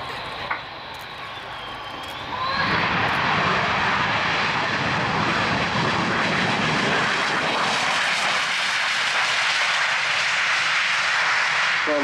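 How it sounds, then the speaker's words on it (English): A Saab JA37 Viggen, a big heavy Swedish air-defence jet with a Volvo Flygmotor RM8 engine, rolls out after landing at an RAF Waddington air show, its broad roar rising after two seconds and holding loud and steady. "That's a big, heavy jet, and that is a very, very impressive landing roll indeed."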